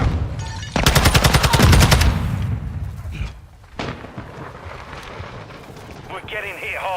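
In Call of Duty MWII, a burst of rapid gunfire leads into a thrown flash grenade with a single sharp bang, all loud and close, while game voices speak in the background.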